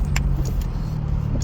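Car driving a lap in sport mode through unplowed snow, 15-20 cm deep, on Bridgestone Weatherpeak tires: a steady, close, low engine and road drone with faint light rattles on top, no talking.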